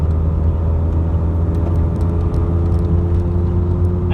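A car drives along a country road: a steady, close engine hum and tyre rumble hold even and continuous throughout, with no talk.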